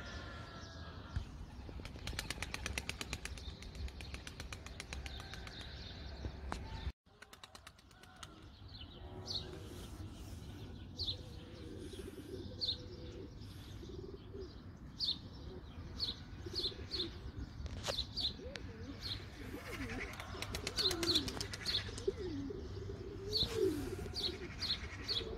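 A young tumbler pigeon coos softly outdoors while other birds chirp in short, repeated bursts. A brief gap breaks the steady background early on.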